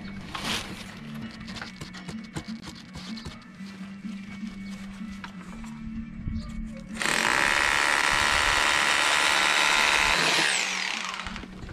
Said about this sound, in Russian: И продолжаем дальше бурить.